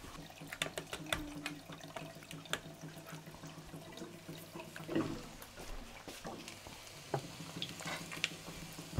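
Schnitzels frying gently in a pan on a home stove, a soft sizzle under scattered clinks and stirring clatter and a brief tap-water rush, fairly quiet and steady with irregular sharp clicks.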